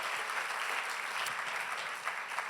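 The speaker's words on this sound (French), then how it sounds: "Let's give the Lord a clap offering" A church congregation gives a sustained round of applause, dense and even clapping from a large crowd with no voices over it.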